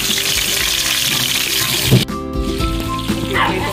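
Shanghai spring rolls frying in a pan of hot oil, a steady close sizzle with bubbling crackle throughout, briefly disturbed midway as if the rolls are moved.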